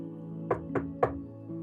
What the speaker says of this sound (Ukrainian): у величезні замкові ворота постукали